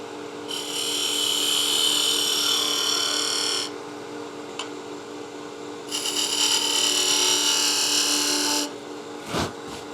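Wood lathe turning a tenon onto a salt or pepper mill blank for the chuck, a loud steady high whine and scrape of the gouge in two long bursts with a quieter motor hum between, ending in a brief knock.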